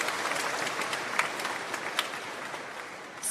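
Graduation ceremony crowd gives a short round of applause when asked about burgers, moderately faint continuous clapping with a few sharper individual claps standing out.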